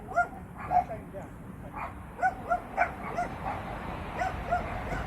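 Several dogs give short, high-pitched whimpers and yips in quick bursts at a canal boat mooring, with people talking in the background.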